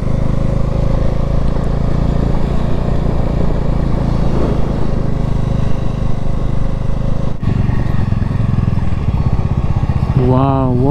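Motorcycles on a rough mountain road between Jispa and Ladakh give a loud, continuous engine roar close by, with a rising whine near the end and voices shouting over it.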